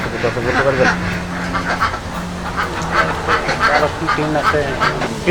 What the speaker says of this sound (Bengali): এই ঘরে উনি সাড়ে তিনশো হাঁস রাখেন